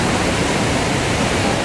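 Iguazu Falls thundering with a massive volume of water plunging into the depths, a steady, dense, close roar filling the whole spectrum without pause or variation.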